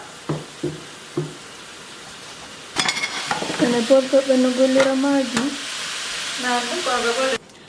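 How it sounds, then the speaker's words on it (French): Onions frying in a pan with a steady sizzle, a few utensil clinks and stirring sounds, and brief kitchen noises between. "on va faire cuire ceci jusqu'à ce que les oignons deviennent bien tendres"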